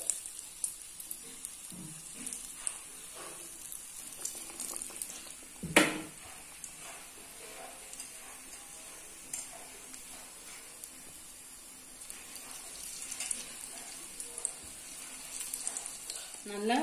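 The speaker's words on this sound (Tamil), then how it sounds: "இப்போ காலிஃப்ளவரை மாவுல முக்கி எண்ணெயில போட்டுறலாம்" Batter-dipped cauliflower for Kerala-style bajji deep-frying in hot oil produces a continuous bubbling sizzle, with one louder splashy crackle as a piece drops in and occasional faint stirring clinks.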